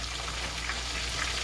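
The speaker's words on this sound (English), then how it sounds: "when you hear that sizzling" Beer-battered fish fries in hot coconut oil, giving a steady, dense crackling sizzle that stays even and close throughout, with no voices.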